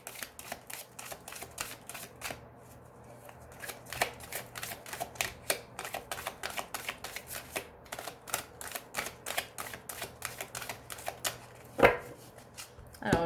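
Tarot cards shuffled by hand in a steady run of crisp, rapid riffling clicks and flutters, close and fairly quiet, with one sharper slap near the end and no talking.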